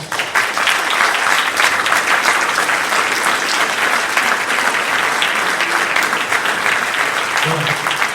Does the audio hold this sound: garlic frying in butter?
no